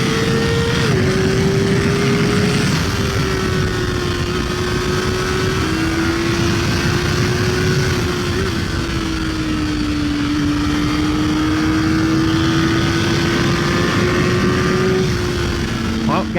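A 2023 Kawasaki ZX4RR motorcycle screams at wide open throttle, a loud, sustained high-revving engine howl with slight pitch shifts between gears, heard over rushing wind.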